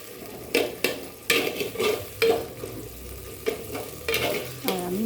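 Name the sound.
tomato puree added to frying spice mix and stirred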